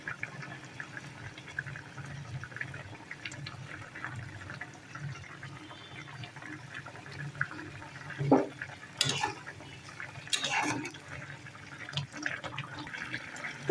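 Fish curry simmering in a pot on a gas stove, a low steady bubbling with occasional louder pops and splashes near the end, alone without talk.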